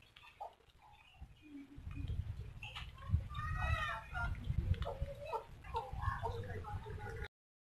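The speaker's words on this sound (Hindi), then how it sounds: "प्योर ब्लैक मुर्गी है ये भी एक असील मुर्गी है।" A pure black Aseel hen clucks softly in a few scattered bursts close by, under steady low rumbling noise, with no talk.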